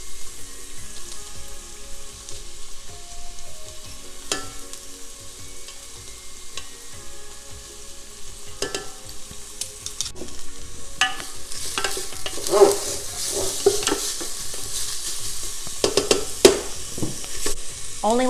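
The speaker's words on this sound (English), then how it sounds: "you can go ahead and crush the garlic cloves in, and I have 2 garlic cloves." Two crushed garlic cloves sizzling in a soup pot with vegetables, a soft, steady frying hiss with occasional spoon scrapes and clinks, growing busier and louder in the later half.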